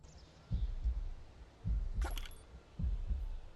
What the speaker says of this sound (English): It's a heartbeat sound.